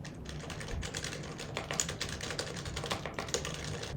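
Steady, dense typing on a computer keyboard, recorded through a webcam's built-in microphone in an indoor setup; rapid close-up key clicks continue without pause, with no talking.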